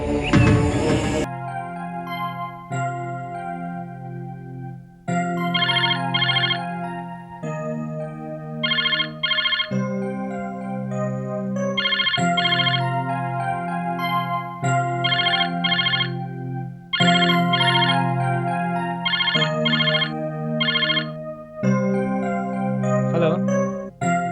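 A phone's melodic ringtone plays loud and alone in a looping electronic tune that repeats several times without pause, clear and close.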